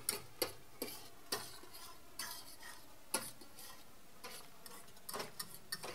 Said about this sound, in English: And then you must stir it up.